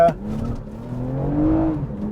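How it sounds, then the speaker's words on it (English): A 2020 Toyota Camry TRD with a catback exhaust gives a brief, steady throaty drone as the car drives, fairly close and moderately loud. "that catback exhaust system sounds pretty good"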